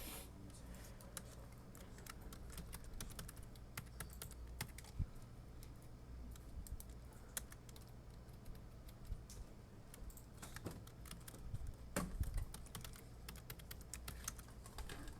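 Steady stream of keystrokes on a computer keyboard as a command is entered to update a Linux virtual machine, quiet and fairly close, with irregular rapid taps over low room hum and no talking.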